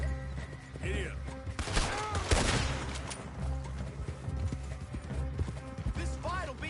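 Horse hooves pounding in Red Dead Redemption 2 amid a chaotic firefight, with gunshots, crashes and a whinnying horse layered over a continuous rumbling game soundscape, a voice shouting briefly.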